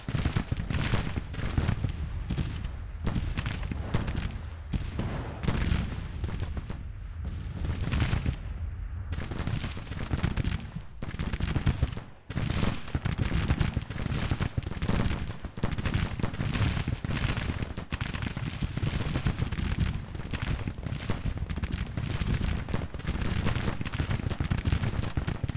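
Rifle fire from a Civil War video game battle on the Confederate side: dense, continuous volleys of crackling musketry and booming shots, loud and unbroken, with only a brief lull near the middle.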